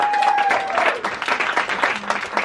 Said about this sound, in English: Women, clap it up.